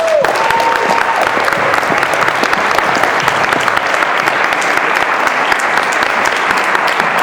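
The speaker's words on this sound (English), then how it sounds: "give yourselves a warm round of applause for my dude" An audience at a NAMM 2020 panel session claps in steady, dense applause that carries on throughout, following a brief voice at the very start.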